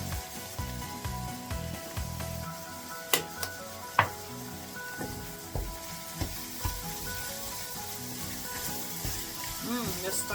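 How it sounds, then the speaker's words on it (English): Ground beef seasoned with chili powder and smoked paprika sizzles steadily in a hot pan while a utensil stirs it, with occasional sharp scrapes and taps against the pan, and a voice speaks over the frying. "Stir to mix it in. And the smoked paprika."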